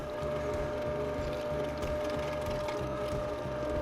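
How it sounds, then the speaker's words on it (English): Electric meat grinder churning seasoned beef for homemade snack sticks, a steady mechanical whir and hum with a rhythmic ratcheting grind running continuously and close throughout. "And let's add it to the grinder."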